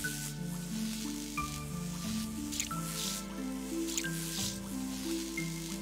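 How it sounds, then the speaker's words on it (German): Water drips repeatedly in the puzzle game 100 Doors, soft squishy droplet plinks at an uneven pace over a looping electronic game tune with descending melodic steps. "Es tropft immer wieder neu da drauf."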